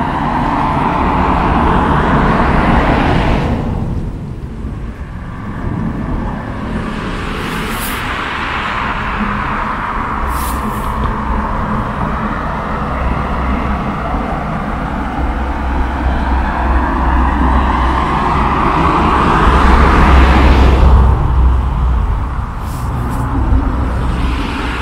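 Steady roar of road traffic, with cars passing along a roadway near a landscape photography spot, swelling and fading in long continuous sweeps with no talk.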